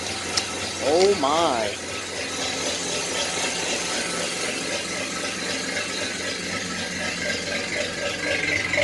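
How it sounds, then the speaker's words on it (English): A Chevrolet S10 pickup running with a swapped-in engine, its exhaust giving a steady low idle rumble throughout, with a brief exclamation and a squeaky rising sound near the start. "But listen to that exhaust."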